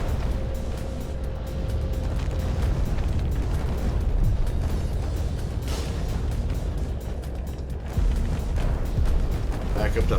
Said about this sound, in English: As he's walking through the building, the place comes down.